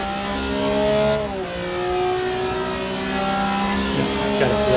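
A race car engine in a racing video game revs loud and sustained, its pitch climbing, dipping around a gear change, then rising again, as a Ford Capri races at Heusden (Zolder).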